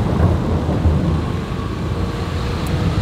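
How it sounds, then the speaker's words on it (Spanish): Steady rain with low thunder rumbling through it on a street in San Cristóbal de las Casas, Chiapas, a broad continuous wash of heavy sound throughout with no voices. "ya empezó la lluvia, sabíamos que iba a llover"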